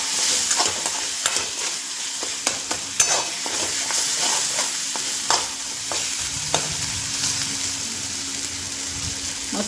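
Brinjal and potato curry with mixed masala and chili powder is stirred in a pan, a continuous frying sizzle broken by frequent sharp scrapes and clicks of the spoon against the pan, close and with no speech.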